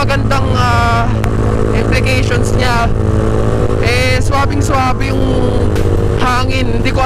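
Close, loud rumble of a motorcycle with an open Villain Shorty muffler, holding a steady idle throughout while someone speaks over it in bursts.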